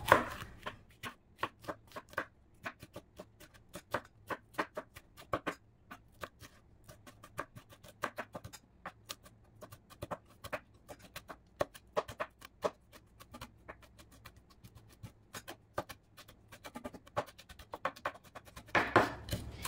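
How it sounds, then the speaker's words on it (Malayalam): Coriander, mint, curry leaves, half a capsicum and a green chili are finely chopped for Yemeni white mandi. Rapid, sharp knife strikes on a cutting board continue near and steady, with a few short pauses. "മല്ലിച്ചപ്പ്, പുതിന, കറിവേപ്പില, ക്യാപ്സിക്കം, ഒരു പച്ചമുളക്, ഇതൊക്കെ കുറച്ച് നമുക്ക് ഇതിലേക്ക് അരിഞ്ഞ് ഇടാം"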